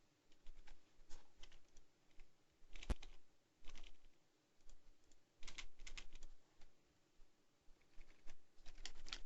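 Keys clatter on a computer keyboard in quick irregular bursts of soft tapping, pausing between runs, fairly faint and close with no talking.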